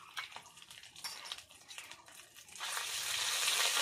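Ginger paste hits hot mustard oil tempered with bay leaf, dried red chillies and five-spice, crackling in bursts of scraping stirs before settling into a steady, loud sizzle; no talking.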